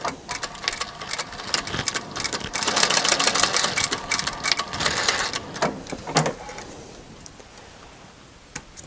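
A sewing machine stitching upholstery fabric for a storage box, a seam half an inch from a folded edge, running in fast rattling bursts that speed up and pause, close and clear with no talking.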